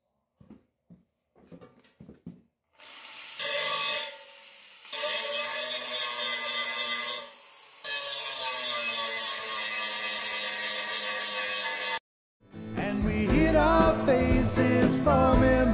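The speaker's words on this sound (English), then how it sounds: "we'll have to grind the welds down" A grinder smooths the welds on steel brackets for the propane tank of a 1984 RV. Its steady, high whine runs in long passes, broken by short pauses, before music takes over.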